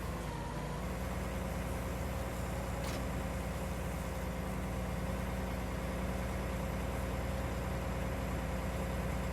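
A big tractor with a roughly 700-horsepower engine and twelve tires idles steadily in Farming Simulator 19, a constant low rumble with a faint whine and no voices over it.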